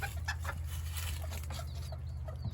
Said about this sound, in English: This is a Cerama rooster and some Banny hens that are not significantly bred that we know of.